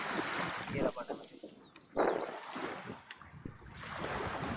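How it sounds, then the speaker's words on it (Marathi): Sea waves surge onto the rocky shore at Redi in Konkan, swelling and receding in soft bursts with faint voices in the background. "आणि हा आपला रेडीचा अथांग समुद्र"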